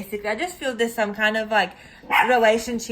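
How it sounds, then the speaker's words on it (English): A pet dog barks at home while a person keeps talking, its sharp calls overlapping the speech in short bursts before a louder run near the end. "that's just my dog"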